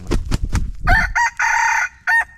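Close and loud, a rooster gives a full crow in several drawn-out phrases after a few lower clucking sounds.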